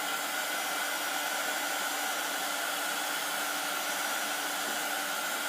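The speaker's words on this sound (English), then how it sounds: "Just go along the edge with your heat gun." A heat gun blows steadily along the edge of a candle topper, giving a loud, unbroken whooshing roar close by with no other sounds.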